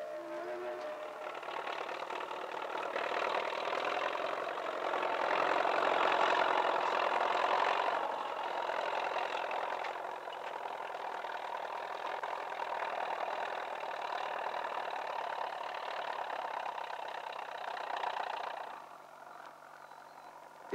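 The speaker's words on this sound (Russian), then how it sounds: "Зима позвала и вывел в поле свой трактор Яков Остаскевич." A tractor engine running in a snowy winter field in the Soviet Union, February 1965: a steady mid-pitched drone that swells slightly midway, then drops away near the end.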